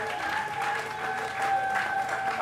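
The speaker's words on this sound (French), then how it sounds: "Applaudissez pour la parole de Dieu." Applause from a church congregation during a special worship service of miracles and deliverance, a steady wash of hand claps that swells slightly and peaks sharply at the very end.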